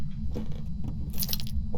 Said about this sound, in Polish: Dobra, to znowu im kradnę klucze